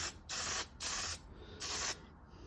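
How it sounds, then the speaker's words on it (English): Three hissing bursts of primer spray paint from an aerosol can, each lasting about half a second with short pauses between, close and steady. "Spray it till it gets clear, where it's only air, and then you got to clear the nozzle out"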